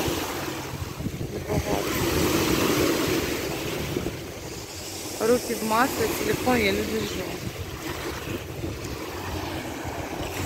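Sea waves wash steadily onto a beach in Turkey, a constant surf hiss with some wind buffeting the microphone, while someone talks over it close by.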